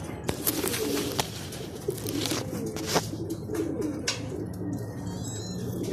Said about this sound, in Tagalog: yung dalawang ibon natin na magkasunod dumating